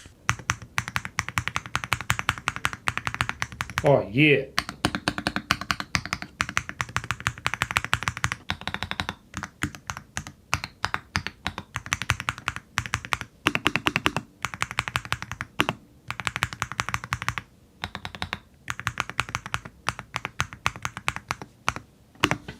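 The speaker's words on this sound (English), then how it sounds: "the sound of it makes me want to just hit the keys really hard" Rapid, steady typing on a MelGeek MADE68 Ultra V2 mechanical keyboard, dense clacky keystrokes running continuously up close with brief pauses, and a short spoken remark early on.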